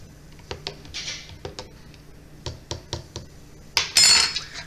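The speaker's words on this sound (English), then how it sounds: "I'm going to give it a little stir" A spoon stirs a small spoonful of honey into a herbal decoction in a child's sippy cup, giving light, irregular clinks and taps up close, then a louder scraping rattle at the end.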